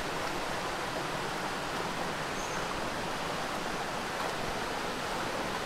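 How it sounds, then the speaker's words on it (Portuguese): A small stream of clear water flows in a steady, close, unbroken rush near a winery in Brasília, with no voices over the continuous watery hiss. "Barulhinho da água."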